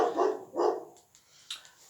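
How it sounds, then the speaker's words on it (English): Two barks from a dog somewhere nearby, a brief pause between them, then the noise fades into quiet room tone. "if you can hear the dogs, because my next door neighbours have dogs"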